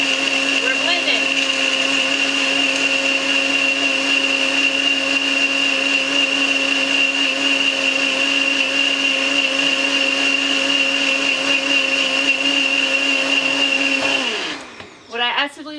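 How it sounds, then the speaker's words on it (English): A countertop blender runs loud and steady, blending a sparkly cocktail with a constant whirring motor drone for about fourteen seconds before cutting off abruptly. "We aren't shaking tonight. We're blending."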